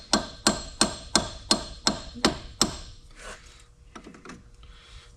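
Hammer blows during a Toyota engine repair, near the air conditioning pump: seven sharp metallic strikes in an even, quick rhythm, then quieter scattered clanks and rattles of parts afterward.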